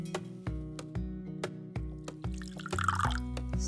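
Water is poured into a mortar of ground saffron and salt, a trickling, dripping pour with a series of distinct plinks and splashes that builds toward a steadier fill, close and fairly quiet.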